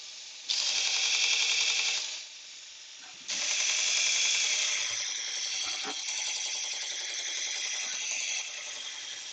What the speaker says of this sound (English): Just sharpen that gouge up so we've got some nice sharp gouge for some final cuts.